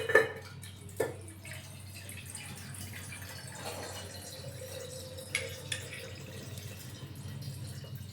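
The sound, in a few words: water being poured into tamarind juice for bevu bella panaka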